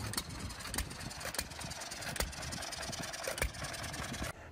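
An old tractor engine idles with a steady low chug and rapid, regular firing pulses, close and moderately loud, with no voices.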